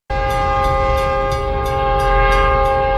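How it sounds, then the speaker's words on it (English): A train horn blares loudly and without a break over a deep rumble as the train approaches a car stopped on the tracks, steady and close throughout with no voices. "He was almost killed by the train."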